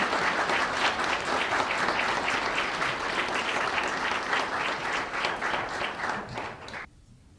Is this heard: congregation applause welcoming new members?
yes